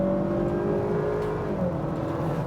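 A 2021 Honda Accord with a VTEC engine accelerating hard, its steady engine drone and whir holding loud and close throughout with no talking.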